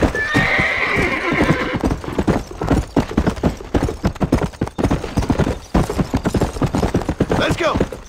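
Horse hooves clip-clopping at a gallop in Red Dead Redemption, a loud, steady rhythm throughout, with a sharp neigh near the start and faint speech underneath.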